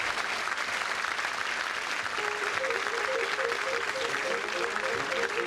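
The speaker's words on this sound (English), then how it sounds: "On behalf of our winner, very much for that applause." A radio studio audience claps for the show's winner, dense and steady, at an even volume throughout, with a short musical phrase starting partway through beneath the clapping.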